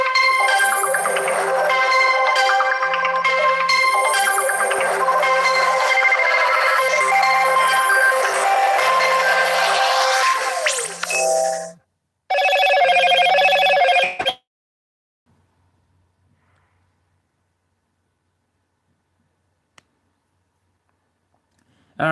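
A mobile phone ringtone plays loudly in a repeating electronic melody for about twelve seconds, cuts out briefly, sounds once more and stops, leaving near silence.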